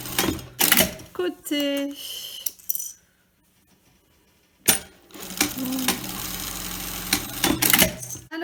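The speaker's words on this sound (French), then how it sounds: "on part à la machine pour piquer ceci. Voilà, on pique les deux" Sewing machine stitching two edges of fabric together for a cake bag, with short bursts of mechanical whirring and rapid needle ticking, a pause, then a longer steady run, with a person speaking French briefly.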